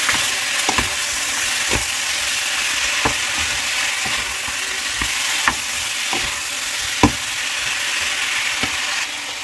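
Pork curry mixture is stirred in a pan, with a steady frying sizzle under a run of sharp, evenly spaced scrapes and taps of the spoon against the pan. The stirring is close and no one speaks.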